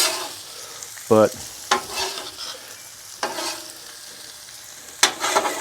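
Cabbage, sausage and shrimp frying on a Blackstone griddle: a steady close sizzle broken by several loud metal spatula scrapes and clanks at irregular intervals, with a brief word spoken.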